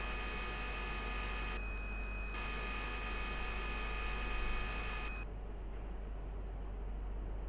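A CNC machine running a circular turning operation, giving a steady mechanical hum with a high tonal whine that cuts off partway through, continuous and close without talk.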